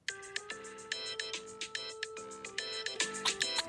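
Bright electronic phone ringtone from an episode of The Simpsons, a quick repeating melodic pattern of pinging notes played alone at moderate volume.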